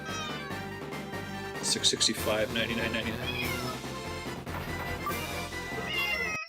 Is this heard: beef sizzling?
no